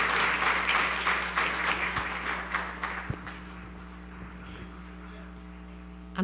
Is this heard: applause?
yes